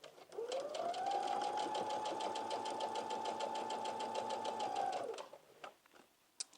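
A sewing machine stitches a waistband onto an A-line skirt along a curve, running close and steady in one continuous whirring burst for about five seconds before stopping.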